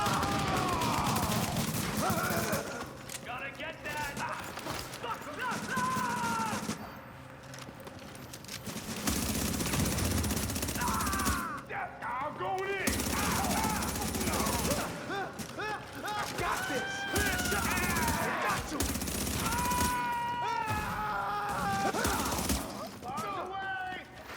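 Video game shotgun blasts crack out in repeated bursts, loud and close, mixed with other gunfire and game sound effects, with a few quieter gaps between volleys.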